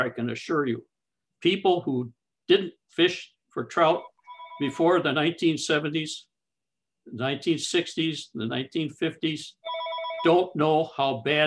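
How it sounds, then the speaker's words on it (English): A telephone rings during a lecture on stream restoration and trout fishing. Short, faint electronic rings come in bursts between and under the lecturer's steady talking. "sorry about the phone here."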